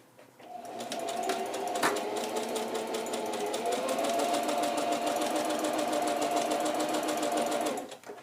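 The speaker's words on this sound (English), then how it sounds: "if you're using a sewing machine, when you get to the end, leave the needle down" A sewing machine stitches fabric for cloth masks, running steadily for several seconds, its needle rattling in a fast even rhythm, close and loud, then stops.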